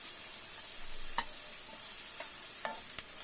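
Salted onions sautéing in a pan for a Tamil eggplant and potato stir-fry, giving a steady close sizzle with a few soft spoon-stirring scrapes, no voices.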